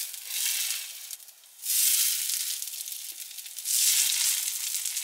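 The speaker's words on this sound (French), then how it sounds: "on va venir faire cuire ça dans une poêle avec un petit peu d'huile d'olive" Homemade soy-free tofu pieces sizzling and frying in a pan with a little olive oil, a steady loud hiss that briefly dips then swells again, with no talking.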